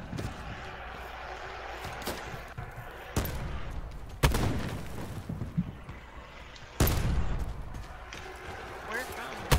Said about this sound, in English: My friend's being shot at.